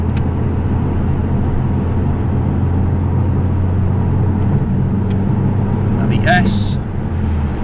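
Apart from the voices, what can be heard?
2008 Alfa Romeo Brera S car driving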